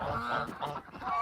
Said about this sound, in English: those are the geese